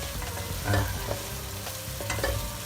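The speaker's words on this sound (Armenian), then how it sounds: "սենց մի քանի րոպե տապակելու ենք" Vegetables sizzle in a hot pan while a utensil scrapes and stirs them, with a few clinks against the metal, close and steady.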